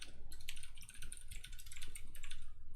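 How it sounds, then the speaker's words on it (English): Fingers tap quickly on a computer keyboard while someone writes compiler code, giving a busy, close run of light clicky keystrokes with brief pauses and no talking. "I feel like I'm getting worse at typing over time now."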